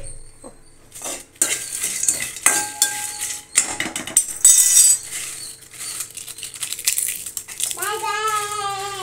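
Masala ingredients for biryani are dry-roasted in a pan on a low flame, with busy metallic clinks and scraping of a spoon against the pan, and a voice briefly heard near the end.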